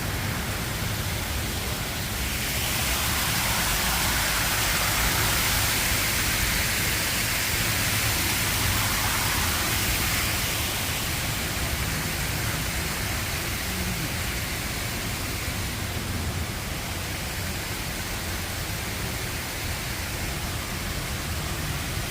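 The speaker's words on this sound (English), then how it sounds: "Very nice waterfall." A waterfall roars in a steady, dense wash of rushing water that stays loud and unbroken throughout, heard outdoors with no talk over it.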